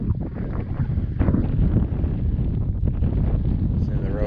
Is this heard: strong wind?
yes